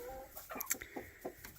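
Mature hens cluck in quick short bursts at close range, a few sharp calls rising over a soft, steady barnyard murmur.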